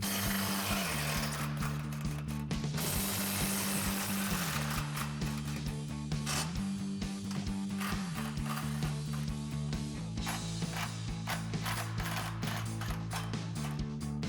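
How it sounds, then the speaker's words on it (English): An impact wrench with a 15mm socket whirs and hammers as it removes exhaust flange nuts on a 2005-2007 Corvette. Its droning motor tone shifts pitch in steps, with dense rapid clatter running throughout. "We got our 15mm socket on our impact."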